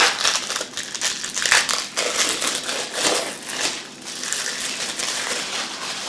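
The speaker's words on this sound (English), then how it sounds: "So I figured I'd just open it while I'm with you guys. And it really, this plastic stuff that they wrap this in is crazy." Plastic wrap is torn and crumpled off a Dr. Bronner's soap bottle, giving a steady, close crinkling and crackling that runs throughout with uneven bursts.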